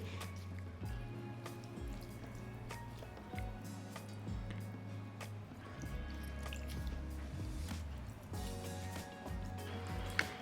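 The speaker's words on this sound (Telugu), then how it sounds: "ఇప్పుడు వీటికి నీళ్లు లేకుండా ఇలా వాటర్ తీసేయండి" Water drips and trickles in small irregular splashes close by, soft squishy sounds of soaked bitter gourds being pressed to drain, over a low humming background.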